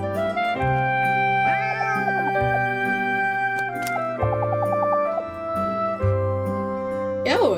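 Cats meow several times over a busy, tonal game soundtrack, their calls rising and falling at a moderate level and partly blending with the music.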